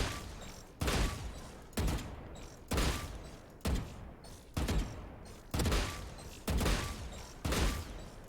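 Gunfire from a weapon in the video game Valorant, eight loud evenly spaced bursts of shots at roughly one-second intervals, each with a short decaying tail, no speech over them.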